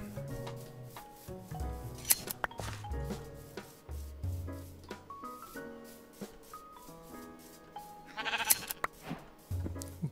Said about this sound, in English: Okay, come here, little sheep.